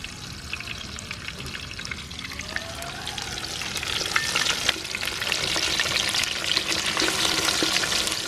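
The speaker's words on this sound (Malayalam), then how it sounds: "കുറച്ച് വേപ്പിലിട്ട് നമ്മുടെ അയില അങ്ങോട്ട് വെക്കണ പൊരിക്കാൻ" Mackerel sizzles and crackles steadily in hot oil with curry leaves, a close, continuous frying hiss that grows slightly louder and busier partway through, with occasional stirring scrapes.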